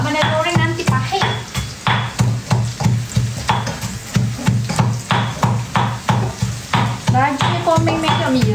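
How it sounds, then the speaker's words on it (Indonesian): Anchovies from Langkawi fry in a pan as a spatula scrapes and stirs in a steady, rhythmic pattern over a soft sizzle, with someone talking over the cooking throughout. "Ikan bilis ni kena pandai goreng."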